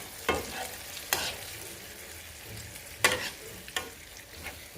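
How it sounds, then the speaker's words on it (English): Yam and fish sauce with soft tomatoes simmering and sizzling quietly in a pot, punctuated by a few sharp stirring scrapes spaced a second or two apart, no talking. "So we're giving it a stir"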